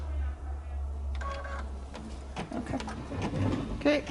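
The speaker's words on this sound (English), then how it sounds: "I'm going to push the button, and we're going to stitch out the lettering." An embroidery machine stitches out lettering on a cake-themed blank, giving a soft, rapid mechanical whirring with a few brief electronic beeps, fairly quiet and heard without talk.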